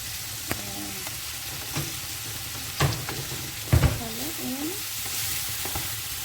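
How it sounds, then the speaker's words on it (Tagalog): Bitter gourd and adobo pork are stirred in a pan with a soft background sizzle, scraping clatters of the utensil rising in a few louder strokes, with a faint voice briefly in the middle. "Haluin lang po ng konti."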